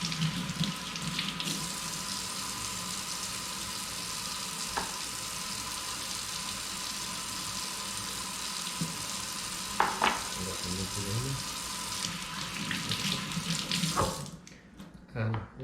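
Tap water runs steadily into a kitchen sink as cut peppers are rinsed, a loud close continuous splash with occasional clinks and handling sounds, before the flow stops near the end.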